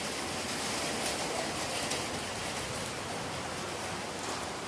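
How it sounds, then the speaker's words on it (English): Heavy rain pours steadily outside a machinery workshop, a dense, even hiss of drops on surfaces that holds at a constant loud level throughout with no voices. "Today it's raining and very big."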